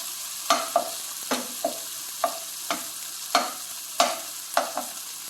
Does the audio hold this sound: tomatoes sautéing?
yes